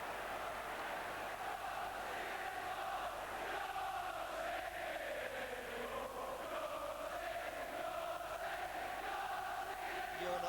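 Football crowd at Highbury during Arsenal v Aston Villa, a steady, dense roar of cheering and chanting voices filling the stadium throughout, fairly distant and continuous without pauses.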